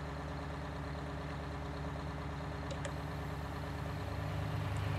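Tractor engine idling steadily in Farming Simulator 19, a low continuous rumble with no talk, growing slightly louder toward the end.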